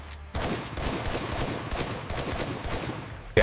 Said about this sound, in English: Full auto testing stresses the gas system and recoil mechanism to the limit.